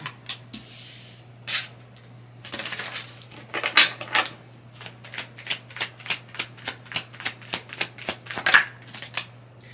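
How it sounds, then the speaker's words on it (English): Tarot cards are shuffled in quick repeated riffles, a rapid series of crisp flutters and taps, close and fairly quiet over a low hum. "Sit back, relax, enjoy the shuffle."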